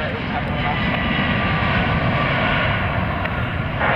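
A Delta airliner inbound from Detroit arrives at Southwest Florida International Airport, its engines giving a loud, steady roar that holds for the whole stretch.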